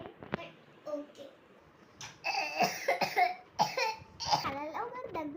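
Several short coughs, loud and close, come early, followed by a quieter stretch and then a run of louder vocal sounds.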